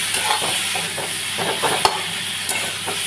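A pan of rice, finely chopped potato and a little water being fried and stirred, with a steady broadband sizzle and intermittent scraping strokes of the spoon, close and fairly loud, no voices.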